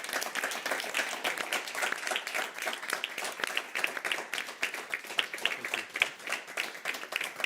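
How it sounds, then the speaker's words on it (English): A crowd bursts into applause for an award winner at a quantum-science award ceremony. The clapping is dense and lively, with sharp individual claps over a sustained roar that carries steadily throughout. "A great applause."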